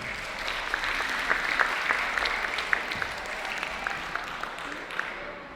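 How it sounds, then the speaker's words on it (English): Applause from the audience at a Ramadan festival event, many hands clapping steadily at a moderate distance, then gradually fading away. "Please give another round of applause to Mr. Omar Isikara."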